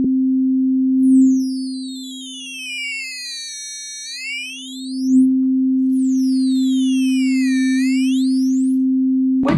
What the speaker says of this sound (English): Crush is a bit crusher effect, which essentially downsamples the sound.